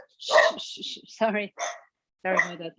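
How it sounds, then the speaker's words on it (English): A pet dog barks a few short times indoors during an online lecture, close and clear, with a person speaking between the barks. "sorry, that's my dog."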